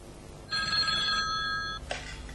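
A telephone rings once as a caller phones in to a radio call-in show, a bright electronic ring lasting just over a second that then cuts off abruptly, heard alone and fairly close.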